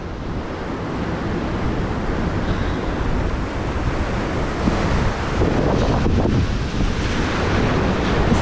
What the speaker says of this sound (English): The sea's rough today